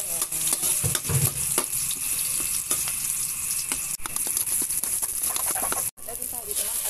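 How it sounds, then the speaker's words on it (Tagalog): Onion sautéing in a pan gives a steady sizzle with light stirring clatter while a person talks over it. "Igigisa na po natin dito ang sibuyas"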